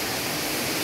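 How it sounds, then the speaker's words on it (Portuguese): Cachoeira do Cipó, a waterfall in Guaramiranga, Ceará, gives a loud, steady, unbroken rush of falling water that fills the whole moment. "vamos mergulhar nessas águas aí frias, geladas, da Cachoeira do Cipó"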